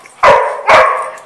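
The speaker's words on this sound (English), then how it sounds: "Woof, woof, woof." Two loud, close dog barks in quick succession, sharp and sudden against quiet surroundings.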